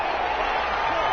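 Stadium crowd noise from a Madden 21 football video game, a steady, dense roar of cheering spectators that holds at an even level throughout without any distinct peaks.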